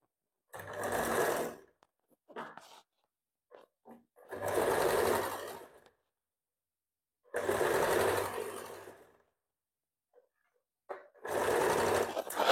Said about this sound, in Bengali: এখানে প্রথমত মেশিনে সেলাই করে নিচ্ছি